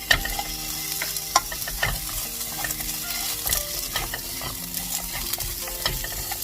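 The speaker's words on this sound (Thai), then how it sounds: "ผัดกระเทียมให้หอมค่ะ" Garlic and carrot stir-fried in a wok for a stir-fried bok choy and tofu dish: a steady, close sizzle broken by repeated sharp clinks and scrapes of the spatula against the metal, with no talking.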